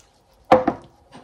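Dry ingredients of carrot powder, hemp seed and flax seed mixed in a bowl: two quick, close knocks of a utensil against the bowl, then a short, softer scrape.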